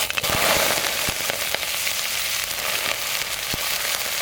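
Onion frying in mustard oil with panch phoron in a village kitchen, a dense steady sizzle and crackle with occasional sharp pops, close and fairly loud throughout.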